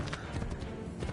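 Horse hooves clopping in Assassin's Creed 3, a quick run of muffled galloping beats over about a second, low and fairly faint.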